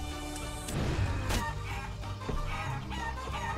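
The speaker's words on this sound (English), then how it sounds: "Rooster punch the chicken." Chicken clucks and a brief rooster-like crow from the video game Guacamelee, set over game music with a sharp crash partway through, no talk.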